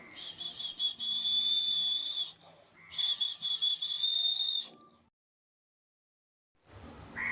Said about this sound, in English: He is whistling with his mouth.